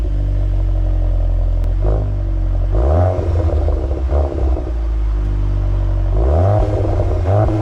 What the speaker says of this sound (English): that exhaust sounds great, and what I'll do is I will splice in a bit of a noise because it makes some cool little burbles and pops